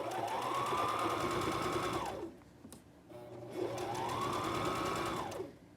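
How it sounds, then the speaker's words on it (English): A sewing machine runs a basting stitch along a fabric edge in two steady bursts of whirring and rapid needle clatter, with a short quiet pause between them and no talking. "All I want to do is put a basting stitch in here to hold my fabric so it doesn't give out on me."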